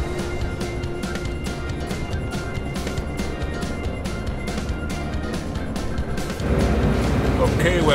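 Camper van rolling slowly down a hill toward Malaga in Spain, a steady low engine and road rumble heard from inside, swelling louder near the end, with a voice talking over it.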